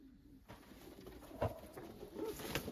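Pigeons coo inside a coop among smoky grey birds, soft repeated throaty calls under a steady background hum, fairly faint and close, with no talking.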